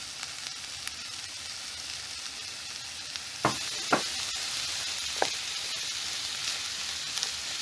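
Chicken pieces fry in a pan with a steady, bright sizzle, while a few soft clicks and scrapes from stirring break through now and then.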